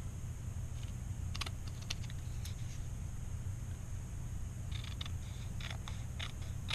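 Crushed Curry cardstock cut with a paper trimmer, heard as clusters of small, crisp clicks and slicing ticks in two short runs over a steady low background hum. No one speaks.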